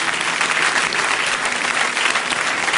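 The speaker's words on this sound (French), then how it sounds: "On peut l'applaudir pour ça." Audience applause for a musician, a loud, dense and unbroken wash of clapping from a large crowd, steady throughout without speech.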